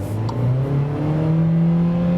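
A Skoda Rapid Spaceback Monte Carlo's 1.4 TSI engine revs steadily upward while held in one gear in S mode, a continuous rising drone with no upshift, loud and close throughout.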